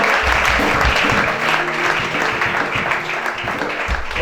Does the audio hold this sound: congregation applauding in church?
yes